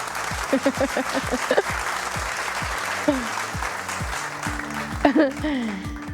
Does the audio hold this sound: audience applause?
yes